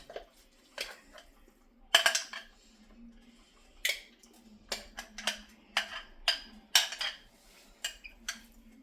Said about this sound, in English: we're going to take our mixture of our chickpeas and our onion, and we're going to put this in